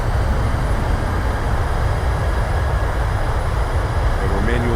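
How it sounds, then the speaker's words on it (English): A Boeing 737-700 in Microsoft Flight Simulator roars with its thrust reversers deployed on landing, a loud, dense, unbroken rumble that holds steady throughout. "Reversers are out. Decelerating."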